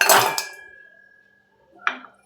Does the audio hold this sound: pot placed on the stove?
yes